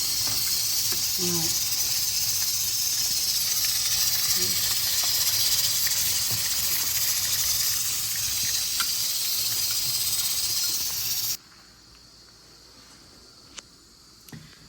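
Eggplant slices fry in hot oil for a tajine, giving a loud, steady hiss and sizzle that holds for about eleven seconds, then cuts off abruptly to near silence with a faint clink or two.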